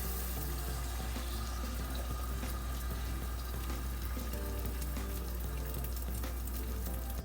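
Beaten egg mixture is poured into a skillet for scrambled eggs, giving a steady, continuous sizzling and liquid hiss that runs evenly throughout, close and moderately loud with no speech.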